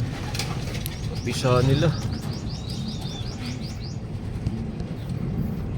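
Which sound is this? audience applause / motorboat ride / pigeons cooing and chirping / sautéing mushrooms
pigeons cooing and chirping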